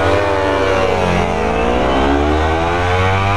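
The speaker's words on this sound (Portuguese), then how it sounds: "Só espera esse carro passar." A car passes close by on a street, its loud engine hum swelling and shifting in pitch as it goes past, steady and unbroken for a few seconds.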